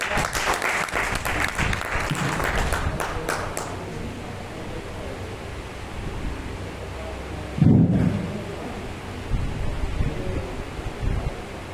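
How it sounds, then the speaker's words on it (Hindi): Loud audience applause at a village employment event, dense crowd clapping for the first few seconds that then fades into a noisy, rumbling background with a brief thump. "जोरदार ताली होनी चाहिए।"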